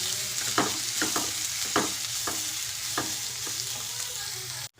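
Chopped onion sizzles steadily in a hot pan, with a utensil scraping and tapping through it in a loose rhythm of strokes before the sound cuts off abruptly.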